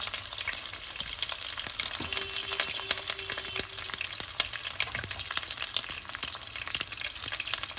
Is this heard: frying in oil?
yes